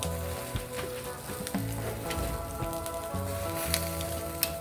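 Fresh alamang shrimp paste sautéing in a hot pan, a steady crackling sizzle with scattered pops and spatters, close and moderately loud, with a faint tonal hum underneath and no talking.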